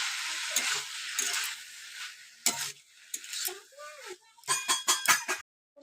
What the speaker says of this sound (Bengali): মশলাটার সাথে খুব ভালোভাবে কষিয়ে নেব।